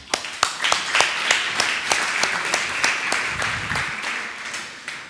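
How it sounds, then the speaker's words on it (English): Audience at the start of a hands-on modern JavaScript workshop applauding themselves, a moderately loud, steady patter of many hands with sharp individual claps standing out, running for about five seconds. "So a big applause to you."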